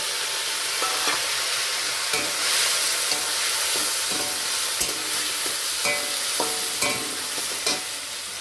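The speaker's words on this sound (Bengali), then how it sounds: "এইবার হালকা করে ভেজে রাখা চিংড়ি মাছটা এই তেলের মধ্যে দিয়ে দিলাম" Lightly pre-fried shrimp hit hot oil spiced with panch phoron and sizzle loudly and continuously, with sharp scrapes and clicks of stirring breaking through the steady hiss.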